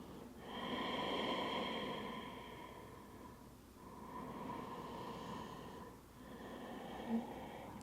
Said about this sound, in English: constrict the back of the throat for Ujjayi Pranayama, creating that wave-like sound that slows the breath